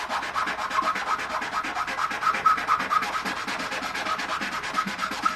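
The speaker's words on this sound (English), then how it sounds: "we're wet sanding the bottom of that piston to remove those scuff marks" A brake caliper piston from a 2014 Suzuki GSXR 750, held upside down and wet sanded flat on a surface: a steady, rapid back-and-forth rasping scrub, close and even, with no voices.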